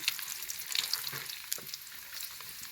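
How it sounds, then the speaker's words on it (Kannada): Urad dal and chana dal frying in a pan with oil for poha upma, a steady close crackling sizzle with small pops throughout, no voices. "ಉದ್ದಿನಬೇಳೆ ಕಡಲೆಬೇಳೆನ ಸ್ವಲ್ಪ ಫ್ರೈ ಮಾಡ್ಕೊಳ್ಳೋಣ"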